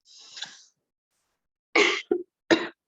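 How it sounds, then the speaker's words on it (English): An adult coughs during a class: one raspy exhale first, then a short burst of three hard coughs close to the microphone, with silence between. "because of the cough, no, I couldn't control"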